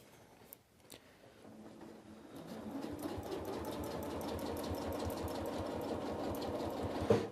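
A sewing machine does free-motion ruler quilting on a flying geese design, starting softly and then settling into a steady, fast, even run of stitching that continues alone to the end.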